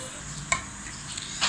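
Mashed potatoes being mixed with spices for potato rolls give a soft, close squelching and stirring sound, with a few brief utensil scrapes and taps against the bowl.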